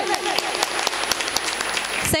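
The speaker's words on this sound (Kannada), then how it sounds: "ಚಪ್ಪಾಳೆ ಬರಲಿ" Applause for a prize winner at an International Nurses Day 2024 prize giving at a public hospital in Jamkhandi, scattered clapping from a small group heard under and between an announcer's speaking.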